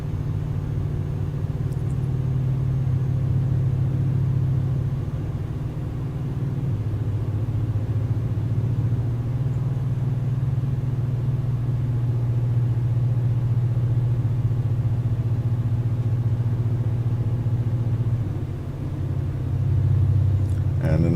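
Volvo truck engine in Euro Truck Simulator 2, a steady low rumbling drone running throughout with slight shifts in pitch, loud and continuous, likely under faint commentary.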